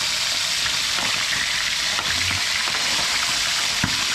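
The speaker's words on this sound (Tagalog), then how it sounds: "Prito muna tayo ngayon sa luto ng tilapiyang arroyo." Tilapia fries in hot oil, a loud, steady crackling sizzle with occasional sharper pops, close up and with no talking.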